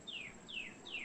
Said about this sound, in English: Might be a cardinal.